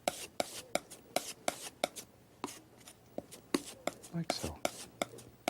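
Blue and white oil paint are mixed on a palette, with a series of quick, regular tapping and scraping strokes close by. Someone speaks softly over part of it.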